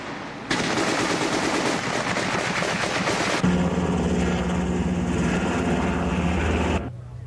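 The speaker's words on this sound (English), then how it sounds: "The sound of 50 caliber machine guns roar all night." Rapid, continuous .50 caliber machine-gun fire from a Spectre gunship over PDF strongholds during the Panama invasion, loud and dense, shifting midway to a heavier droning bursts layer before cutting off near the end.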